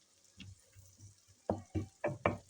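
Ingredients for a cauliflower, keema and potato dish frying in a pan, heard as a few separate bursts of sizzle and stirring, faint at first and then four louder, evenly spaced scrapes close by, with no talk.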